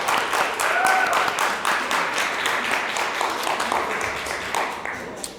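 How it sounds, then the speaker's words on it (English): An audience at a networking event applauds a sponsor with a dense burst of clapping that starts loud and slowly thins out. "please give Northeastern Savings Bank a round of applause"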